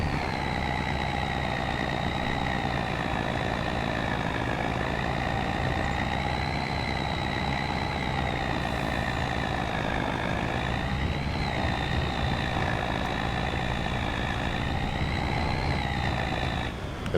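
A loaded truck in Farming Simulator 25 drives steadily with a continuous droning engine and high whine, holding an even loud tone throughout.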